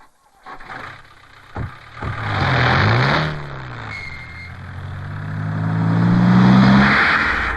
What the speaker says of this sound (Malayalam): ബാബു വണ്ടി ഇടാ